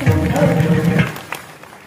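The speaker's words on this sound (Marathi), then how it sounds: "एकदा जोरदार टाळ्या वाजवा गुरु माऊली." Loud applause from a crowd at a Marathi kirtan during a Navratri saptah festival in a village, dense clapping that swells for about a second and then thins out and fades.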